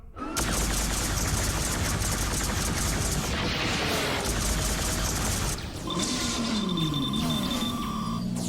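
Cartoon cannon fire from a pirate ship in the animated series ReBoot: a rapid barrage of booming shots, then electronic beeps and a swooping tone near the end, loud and busy with no talk.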